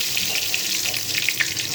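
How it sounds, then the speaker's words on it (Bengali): Whole cumin seeds and bay leaf tempering in hot oil after paneer frying, for a banana stem and paneer dish: a steady, close hiss of sizzling with faint crackles throughout, no talking. "এখন আমি ফোড়ন দেব। তো গোটা জিরে দিলাম"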